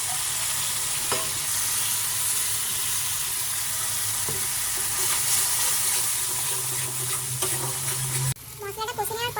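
Ginger paste, turmeric, chilli, cumin and coriander powders, loosened with a little water, fry in a pan for jackfruit kofta curry, a dense continuous sizzle with stirring that cuts off abruptly near the end into a splashier, watery sound.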